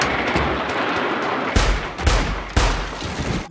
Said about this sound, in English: that was perfectly timed with gunshots going off in the film